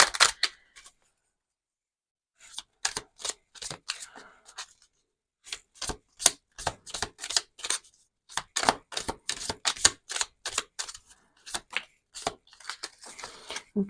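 Tiny oracle cards are shuffled by hand in repeated quick riffling bursts, crisp clicky flutters near the microphone, separated by a short silence and brief pauses, with no talk.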